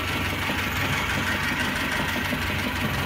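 An idling car engine with a camshaft knock runs steadily and loudly up close, a continuous mechanical rumble carrying a fast, regular ticking knock.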